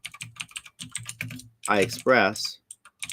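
Quick, close clicks of keys being typed on a computer keyboard come in irregular bursts, with a voice speaking briefly over them near the middle.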